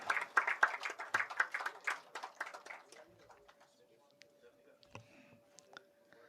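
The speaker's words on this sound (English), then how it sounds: "Huge round of applause for Rajesh, sir." Audience applause for a keynote speaker at an HR conference, lively clapping for about three seconds that thins to scattered claps and fades out.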